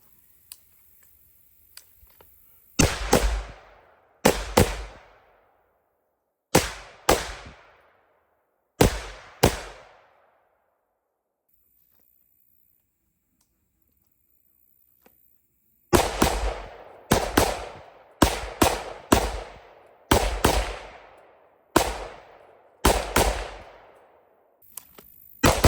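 Pistol and AR-15 rifle gunshots crack out at an outdoor range: a few spaced single shots, a long pause, then a quick string of sharp, loud reports with short echoing tails.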